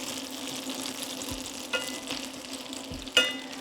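Potatoes fry gently in a pan with a low, even sizzle, broken by a few soft stirring or utensil knocks, quiet and unaccompanied by talk.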